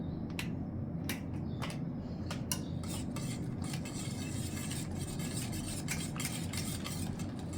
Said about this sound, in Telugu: బాగా అన్నీ కలిసిపోయేటట్టు కలుపుకోవాలి